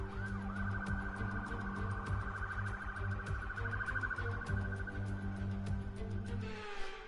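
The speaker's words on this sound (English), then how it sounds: "Sorry for the background noises as well, the sirens." Emergency vehicle sirens wail steadily in the background with a continuous, slowly wavering tone, joined near the end by a second rising siren, under a low hum.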